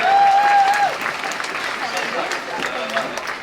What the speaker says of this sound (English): How about a round of applause for our volunteer?